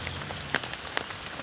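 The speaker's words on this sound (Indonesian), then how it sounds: "Walaupun hujan, gerimis diiringi petir ya, menyambar-nyambar." Light drizzle falls during an oil palm harvest, a soft steady patter with a couple of sharper drops hitting close by, brief and without voices.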